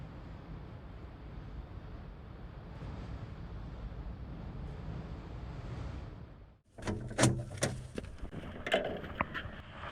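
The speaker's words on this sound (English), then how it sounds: "the door also just moves a little bit, the metal clanking" Wind roars steadily around a stone mountain shelter in a Scottish blizzard, then the metal door shifts and clanks several times in sharp, close knocks and rattles after a brief lull.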